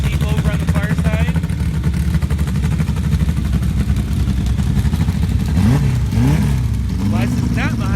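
A turbocharged Volkswagen buggy and a Jeep at a sand drag racing start, with loud, steady engine idle and rising revs near the end, under an announcer's talk.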